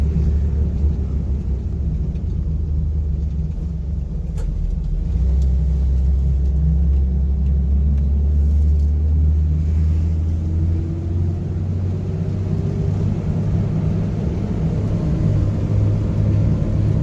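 Chevrolet Corvair car with a new idler pulley driving around the block, a steady low engine and road rumble from inside the cabin, continuous and fairly loud with slight shifts in pitch.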